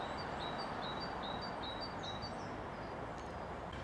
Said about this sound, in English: Great tit, I think that is.